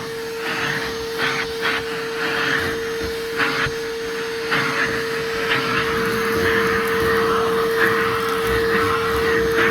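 A Bauer 20V cordless vacuum cleaner with a 5 amp-hour battery runs with a steady motor whine, while brief bursts of suction and debris rattle come and go as it works over a surface, close and loud.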